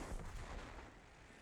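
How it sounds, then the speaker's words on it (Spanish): A tank cannon fires in World of Tanks, a single loud, deep boom with a broad low rumble that decays over about a second and a half, with no talk over it. "Menos mal que tengo un disparo todavía"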